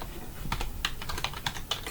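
Steady keystrokes clatter on a computer keyboard while HTML code is typed, quick close taps in an uneven rhythm at low volume with no talking over them.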